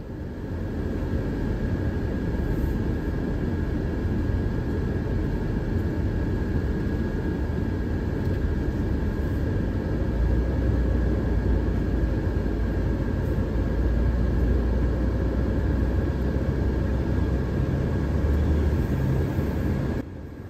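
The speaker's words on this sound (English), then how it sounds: "Time to put the sanctuary to the ultimate test," A Thor Sanctuary 4x4 RV drives through deep, soft beach sand at Tomoka State Park. Its engine and tires make a loud, continuous droning rumble with no talking.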